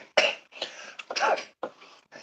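Several hoarse coughs come in a ragged series of close bursts with short pauses between, from someone outdoors in the cold.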